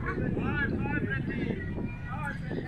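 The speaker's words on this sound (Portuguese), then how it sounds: "Olha o vento." Wind blows steadily across the microphone at a hilltop lookout near a reservoir, a constant low roar running the whole time beneath a man's speech.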